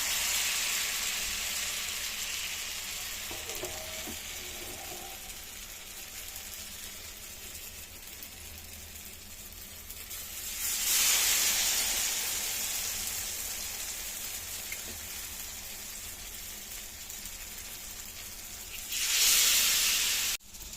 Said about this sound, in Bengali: এই ব্যাটারটার মধ্যেই আমি এইভাবে দিয়ে একদম আলগা হাতে ভেজে নেব। তেলটা আমার গরম হয়ে গেছে।